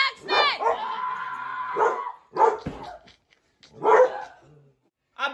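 A dog gives several sharp barks and yips in separated bursts, fairly close, with people talking around them indoors at home.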